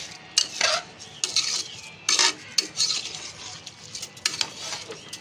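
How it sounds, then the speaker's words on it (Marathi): Rice for pulao is stirred and sautéed in a pan at home, with a spoon scraping and clinking against the metal in irregular bursts over a soft background hiss. "याला पण असं परतून घ्यायचे आहे मी असं परतून घेतलेलं आहे बघा"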